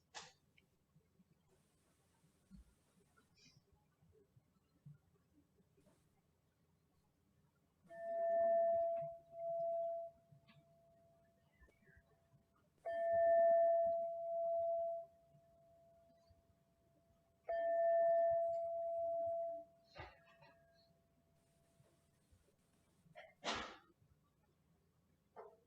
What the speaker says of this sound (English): It's a tradition to begin each week's service by the ringing of a chime 3 times